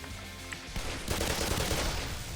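Gunfire in the video game Black Mesa, a dense burst of rapid shots over a low droning backdrop, starting after a quiet moment and continuing as a loud, sustained volley.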